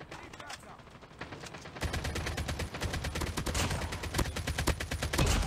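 Call of Duty Mobile gunfire on the Nuketown Russia map, a steady rapid stream of close shots growing louder and denser, with a player's voice faintly beneath.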